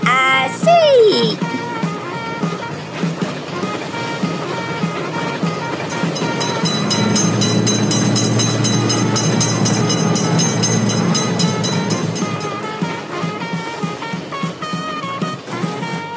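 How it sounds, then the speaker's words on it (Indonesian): A long train passes a railroad crossing, producing a loud, sustained rumble with rhythmic wheel clatter. A brief tonal warning or whistle sounds at the start. "kali ini ada kereta api, maka kita tutup"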